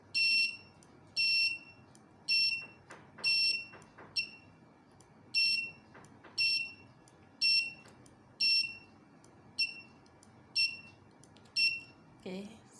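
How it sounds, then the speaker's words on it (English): A digital alarm clock built around a PIC16F876A microcontroller with a 4-digit 7-segment display goes off, sounding a loud, high-pitched beep in short bursts that repeat about every second, roughly a dozen times against a quiet background. "the alarm clock is set for 15:13, and I will turn it on"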